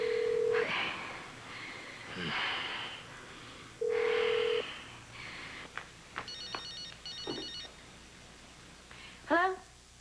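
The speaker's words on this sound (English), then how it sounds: "Just go grab my cell phone, call Frank Scanlon" Cell phone number dialed, with a run of short electronic key tones and beeps among ringing-like telephone sounds, with brief talk and pauses between.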